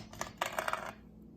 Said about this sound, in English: So I'm going to cut this, and you're going to see why this is called a watermelon radish.